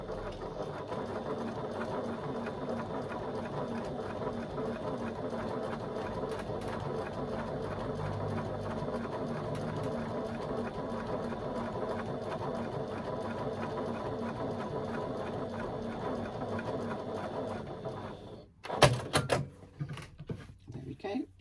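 A sewing machine runs a seam in one long, steady, even stitching hum without backstitching, then stops abruptly, followed by a few handling clicks and knocks.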